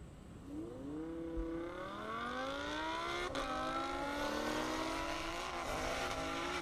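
A 2015 Nissan GTR and a 2017 Audi R8 launch side by side in a half-mile drag race on an airport runway. Engines climb in rising sweeps through several gear shifts, heard from a distance and fairly faint.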